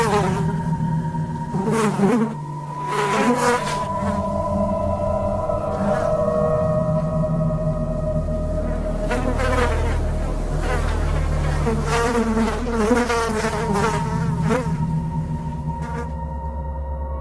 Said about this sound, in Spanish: Que haya moscas en tu casa cuando haya actividad paranormal